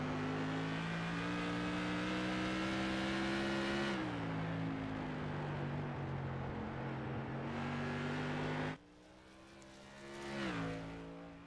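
A race car heard from an onboard camera during a charity race, its engine holding a loud, steady high whine that drops and climbs again with gear changes, then dips sharply before rising once more.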